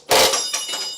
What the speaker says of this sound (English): That was just my wrench.